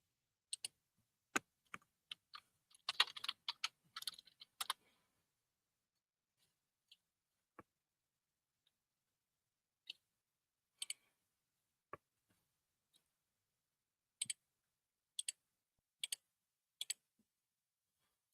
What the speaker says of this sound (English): Several of you are typing